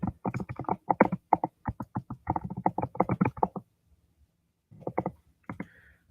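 Rapid computer keyboard typing in dense bursts of close, crisp keystrokes for about three and a half seconds, then a pause and a few more scattered taps.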